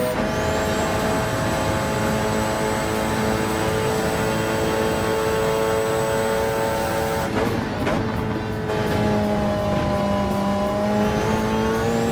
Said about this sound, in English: Perfect example there of multi-class racing.